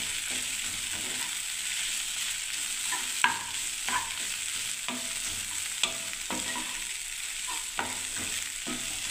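Chow mein is stir-fried in a pan with coriander leaves, a soft steady sizzle beneath repeated scraping and clanking strokes of a spatula, fairly quiet and close, no voices.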